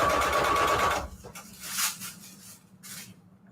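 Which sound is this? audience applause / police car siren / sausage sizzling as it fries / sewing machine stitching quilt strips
sewing machine stitching quilt strips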